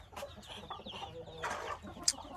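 Hens cluck softly in a backyard poultry run with ducks, a low, faint murmur of short overlapping clucks and one sharper call near the end, with no talking.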